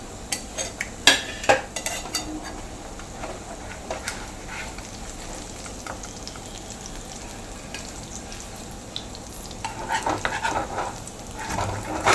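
Karimeen, pearl spot fish, fries in a pan in a home kitchen with a soft steady sizzle, broken by clinks and scrapes of a utensil against the pan near the start and again toward the end.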